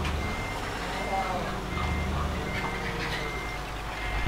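A truck reversing in Euro Truck Simulator 2, its steady high backup beeps repeating over a low engine drone, while someone talks throughout.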